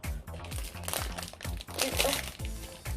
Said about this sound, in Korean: 뭔진 모르겠어도 비닐봉지가 두 개나 있네요